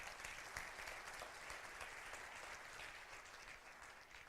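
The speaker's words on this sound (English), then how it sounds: "So if you guys could give her a Rotary welcome, a round of applause." Members at a Rotary club meeting give a welcoming round of applause, steady crisp clapping from a modest-sized room that tapers gently toward the end, heard alone at low volume.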